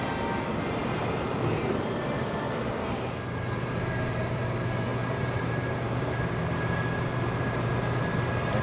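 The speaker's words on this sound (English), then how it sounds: "Here comes the monorail" A Las Vegas monorail train arrives with a steady, loud rumbling roar and a low hum that holds throughout, heard from nearby on the platform.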